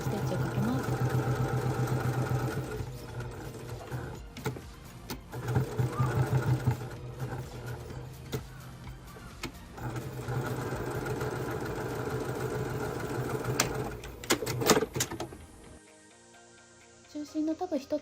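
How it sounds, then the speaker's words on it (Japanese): A sewing machine runs in long steady stitching bursts while tacking fabric tabs for a phone shoulder bag made from an old obi, with short pauses between runs and quiet speech over the whirring. "中心のタブ1つ、D カン用のタブ2つをミシンで仮留めします"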